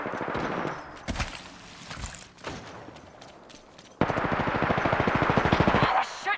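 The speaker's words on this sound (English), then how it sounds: "They're shooting at me." Rapid automatic gunfire from an Apex Legends firefight, sharp close bursts with scattered shots, then a dense sustained volley, mixed with game effects and occasional voice lines.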